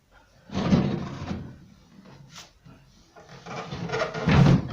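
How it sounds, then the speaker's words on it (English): Wooden drawers are pushed into a chest of drawers, two heavy sliding thuds a few seconds apart with a faint knock between them, close and in a quiet room. "pop the drawers in"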